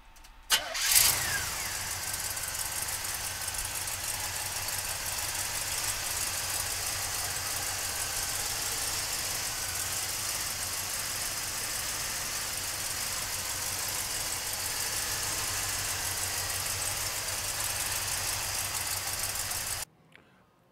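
A 454 V8 engine in a 1970 Chevrolet Chevelle cranks and catches with a sharp burst, then settles into a steady, throaty idle that rumbles on evenly for a long stretch before cutting off.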